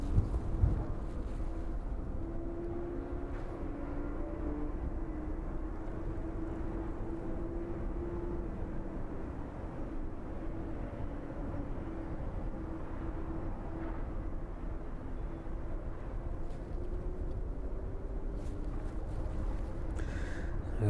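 A jet airliner on final approach to East Midlands Airport, about two minutes from touchdown at low altitude, gives a steady, fairly loud engine rumble and roar that persists throughout with little change.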